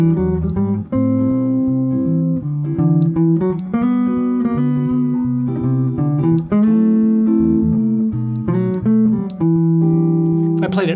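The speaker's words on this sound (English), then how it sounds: "So if I played the melody in its written octave, it sounds like this." Jazz guitar plays a standard's melody in its written, lower octave: a clean, sustained single-note line with steady phrasing, heard alone and fairly loud throughout.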